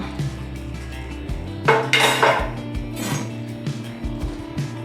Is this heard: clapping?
no